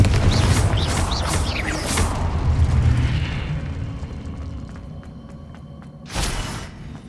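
Confringo spell explosion in Hogwarts Legacy on Xbox Series S: rumbling, crackling blasts fill the first seconds, then a sharp, loud burst lands near the end.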